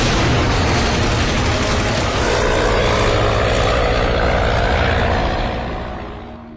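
Allied warplanes bombing the city of Surabaya as a film sound effect, a loud continuous roar of propeller aircraft engines with rumbling blasts beneath, steady throughout before fading toward the end.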